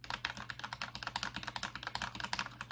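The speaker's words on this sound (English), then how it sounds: "Cherry MX Red. That's why that sound is like that." Rapid, steady keystrokes on a mechanical gaming keyboard fitted with Cherry MX Red switches, a dense run of close, crisp clacks with no voices.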